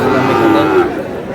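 A Sahiwal bull calf at a cattle market in Pabna lets out a single loud, drawn-out moo that fades off after about a second, with faint market murmur behind it.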